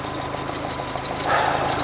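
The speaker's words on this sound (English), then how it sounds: "I'm telling you, that's idling too slow." An engine on a freshly rebuilt carburetor idles too slowly, giving a steady, close, low rumble with a faint uneven knocking throb and no talk.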